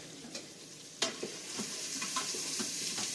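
Food fries and sizzles steadily in a pan, mixed with leftover chili, while a utensil stirs and scrapes it in sharp, irregular clicks; close and moderately loud, with no talk.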